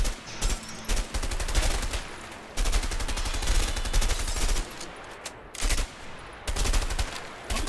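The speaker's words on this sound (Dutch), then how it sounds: "Let's shoot at them." Bursts of gunfire from guns in the video game A Way Out, aimed at empty houses: loud rapid volleys in several strings separated by short pauses, with no speech over them.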